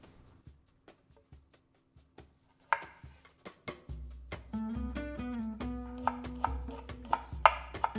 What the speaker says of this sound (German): Zuerst Schalotte und Zitronengras fein hacken.